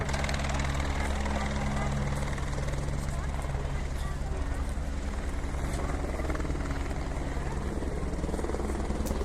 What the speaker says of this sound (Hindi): ये हेलीकॉप्टर आ रहा है